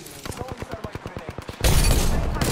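Rapid burst of Apex Legends gunfire, a dozen sharp evenly spaced shots, followed by a loud sustained crackling blast.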